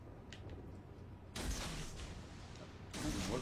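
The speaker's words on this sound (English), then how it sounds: "Looks like shooting pretty quickly." Warship guns firing in a naval combat video game, two bursts of heavy booming rumble with broadband crackle, moderately loud, with no talk during the shots.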